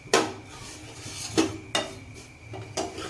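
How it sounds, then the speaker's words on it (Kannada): Two spoons scraping and clinking against a pan as vermicelli is stirred and fried for payasam, a handful of sharp metallic knocks spaced across a quiet background. "ಈ ಥರ 2 ಸ್ಪೂನ್ಲಿಂದ ಹಿಂಗೆ ಸ್ವಲ್ಪ ಇವನ್ನ ಈ ಥರ ತಿರುಕೊಂಡು ಫ್ರೈ ಮಾಡ್ಕೊಳ್ರಿ"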